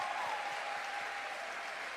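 A congregation at a women's church conference claps steadily for about two seconds, dense and continuous applause filling the hall.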